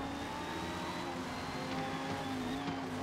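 A Forza Motorsport race car engine holds third gear with a steady, loud harmonic drone that rises and dips slightly, with a faint voice underneath.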